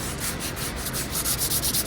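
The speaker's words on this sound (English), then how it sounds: "If you are going to hand sand, then you want to sand in line with the wood grain" Steady scratchy rasping of a hand sanding pad rubbed back and forth along the grain of a wooden stool top, close up, growing slightly louder and more rhythmic toward the end.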